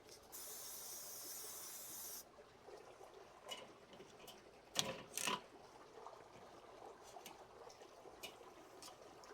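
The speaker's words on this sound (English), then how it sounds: "first thing you want to do is spray your grates" Cooking spray hisses onto charcoal grill grates in one steady burst of roughly two seconds at the start, then stops, leaving quiet outdoor background with a few faint knocks.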